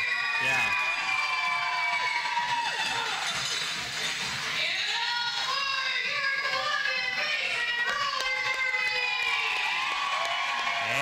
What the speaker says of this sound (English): Boy, our crowd is pumped up tonight.